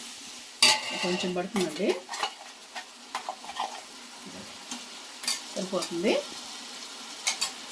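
Garlic stirred and frying in a large pan for a big batch gives a soft sizzle under repeated metal scrapes and clanks of the spoon, close by, while a person speaks briefly.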